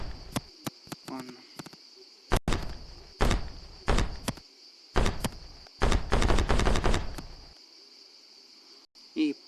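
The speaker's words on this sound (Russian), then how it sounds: "И последний выстрел." Gunshots in a video game sound as a string of sharp, loud bursts, some single and some in rapid clusters. Steady game ambience with a high insect-like whine runs underneath.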